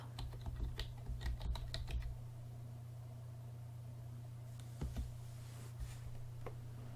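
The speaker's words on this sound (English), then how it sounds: "Let's type in Thanksgiving and see what pops up." Quick bursts of keystrokes on a computer keyboard, a flurry of close clicks followed by a few scattered taps over a steady low electrical hum.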